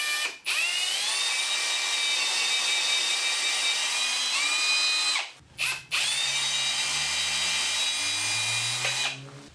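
A power drill bores through a wooden French cleat, its high whine running steadily for about five seconds, dropping out briefly, then spinning up again with a deeper, bogging tone as the bit cuts the wood, close and loud with no talk.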